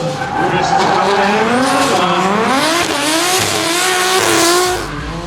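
A Nexon Tyres-sponsored C35 Laurel drift car slides at a D1NZ drifting championship round in Whangarei, its loud wavering tire squeal and engine roar sustained close by for several seconds before easing off.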